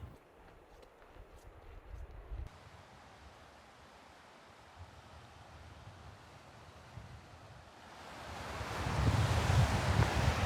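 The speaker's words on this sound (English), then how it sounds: "Pretty windy here." Gusty wind in Lower Mustang, Nepal buffets the microphone, quiet at first and then swelling into a loud, rushing roar toward the end.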